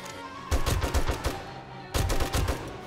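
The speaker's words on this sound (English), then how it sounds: "My shotgun turrets are working," Shotgun turrets firing in the video game 7 Days To Die during a horde night, two quick bursts of rapid, punchy blasts separated by a brief pause, fairly close and loud.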